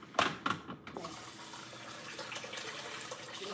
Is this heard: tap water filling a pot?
yes